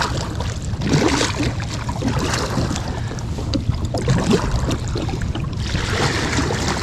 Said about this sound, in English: little back paddle here, and she goes just fine.